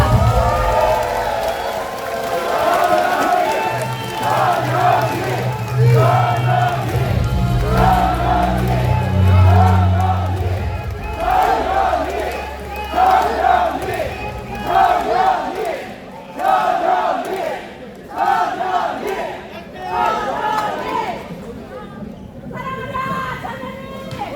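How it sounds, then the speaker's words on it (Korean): A large crowd at a Democratic Party joint campaign rally in Daejeon roars and chants continuously, with loud cheering voices over a low, sustained musical drone that swells and fades toward the end. "큰 박수로 모시겠습니다"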